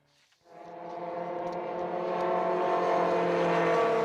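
An MRF Challenge race car sweeps across the finish line, its engine rising from near silence into a loud, sustained, steady roar with strong harmonic whine that builds as it passes close by.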